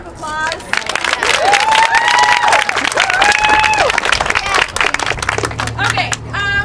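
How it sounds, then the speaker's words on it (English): A crowd at an outdoor rally at the Oregon State Capitol claps and cheers, with dense applause and a few raised voices, fading into quieter noise near the end. "Can you give her a round of applause?"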